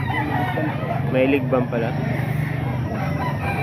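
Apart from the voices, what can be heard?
chicken (rooster) crowing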